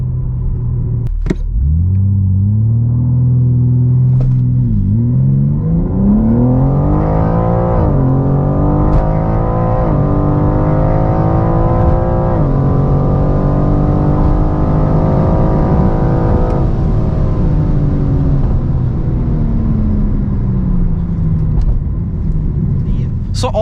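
A 510 hp BMW M4 Competition launches under launch control and accelerates hard toward 200 km/h, its loud engine roar climbing steadily through the revs with shift breaks, heard close from inside the car.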